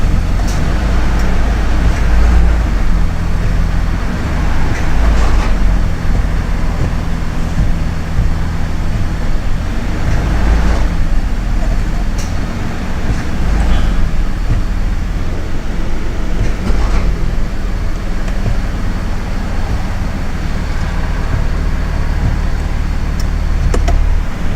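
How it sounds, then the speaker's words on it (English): A Toyota Land Cruiser with an automatic transmission runs steadily nearby as it is put through its gears, giving a continuous low rumble with slight shifts in tone and a few faint clunks, and no talking. "Just start it up, go through all the gears."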